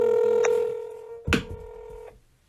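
A phone call's ringing tone plays as a steady electronic tone, held for about two seconds and broken by a sharp click partway through, then it cuts off.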